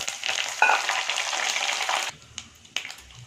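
Dried chillies, cumin, fenugreek and curry leaves fry in hot oil for a brinjal curry, a loud, close crackling sizzle that drops off sharply after about two seconds, leaving a few faint clinks.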